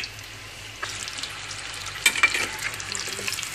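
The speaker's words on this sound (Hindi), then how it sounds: "इसे और थोड़ा फ्राई करेंगे।" A golden, crisping dragon roll fries in oil over low heat, a quiet steady sizzle with a few nearby clinks and bursts of bubbling as it is moved around.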